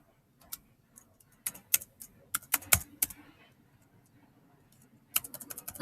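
Typing on a computer keyboard: sparse, crisp keystroke clicks in irregular clusters, a quiet gap, then a quicker run of taps at the end, close and clear with no talking.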